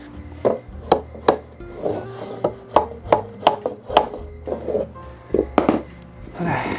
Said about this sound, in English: I'm gonna get my little hammer, just give this a love tap.